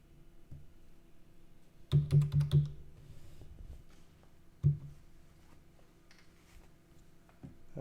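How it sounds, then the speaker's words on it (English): Quick bursts of keystrokes on a computer keyboard, a rapid cluster of clicks followed by a single louder tap, close and otherwise quiet. "I'm typing it out."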